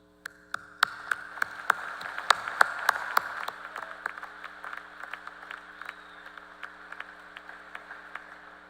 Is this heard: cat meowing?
no